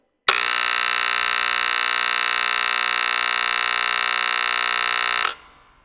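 A single loud, steady electric buzzer in a battery-powered circuit drones for about five seconds and then cuts off cleanly, with nothing else around it.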